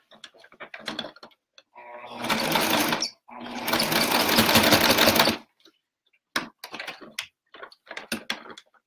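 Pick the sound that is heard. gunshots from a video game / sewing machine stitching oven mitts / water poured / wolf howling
sewing machine stitching oven mitts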